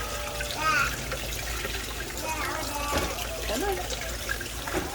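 A kitchen tap runs steadily over a boiled egg as its shell is peeled under the stream, with splashing and trickling water throughout and a person speaking briefly over it.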